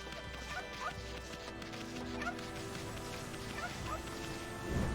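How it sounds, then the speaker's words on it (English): Chickens in a backyard in the video game Okami cluck in short repeated calls over a steady background of game music, moderately quiet and evenly spaced. "Some chickens in the backyard."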